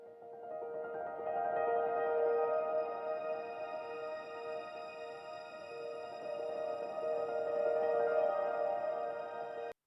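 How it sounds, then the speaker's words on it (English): Rapid piano notes blur into a soft, shimmering wash under heavy reverb, a steady sustained haze that swells gently and stays fairly quiet for the whole stretch, with no voices. "I just sort of like played really fast on the piano and then put a ton of reverb on it"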